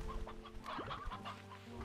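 Roosters in the video game Slime Rancher 2 cluck in a quick series of soft, close calls over a faint low hum, with no talking.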